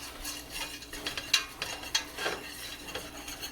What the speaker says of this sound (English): we're whisking